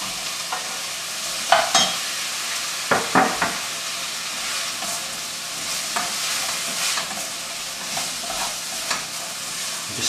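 Four medium potatoes, chopped, being stirred into a hot pan while making broccoli soup, with a steady sizzle and frying hiss under a few distinct scraping stir strokes, close up and with no talking.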